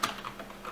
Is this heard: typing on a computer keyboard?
yes